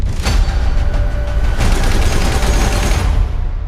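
Rapid, loud Gatling gun fire from a Halo TV series trailer: a dense, continuous stream of gunshots with booming low end, sustained throughout without voices.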